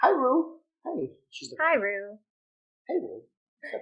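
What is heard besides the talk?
small dog barking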